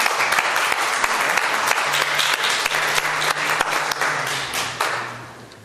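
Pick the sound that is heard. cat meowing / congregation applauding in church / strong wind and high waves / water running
congregation applauding in church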